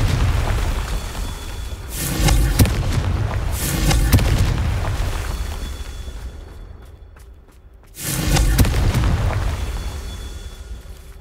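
A Confringo fire-blast spell explodes in Hogwarts Legacy, heard as two or three loud, deep booming blasts with crackling bursts, spaced a couple of seconds apart, with a brief lull before a final heavy blast.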